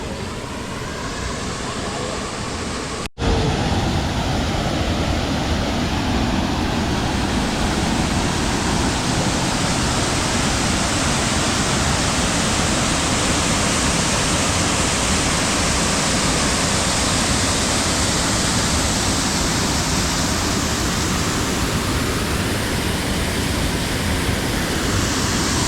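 Abrams Falls waterfall roars loud and steady at close range, with a dense, unbroken rush of falling water that fills the whole scene after a brief cut near the start.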